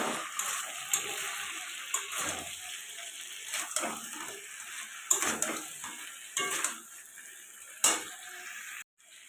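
Pieces of fried crab are sautéed in a pan, with repeated metallic scrapes and clinks of a spatula over a faint sizzle, arriving in irregular bursts and stopping abruptly at the end.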